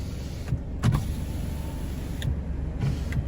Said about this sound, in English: So I'm gonna roll the window down a little bit,